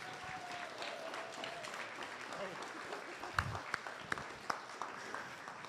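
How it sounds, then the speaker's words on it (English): An audience applauding, faint and distant at first, then building to a few sharper claps near the end against a quiet room. "Let's give him another round of applause."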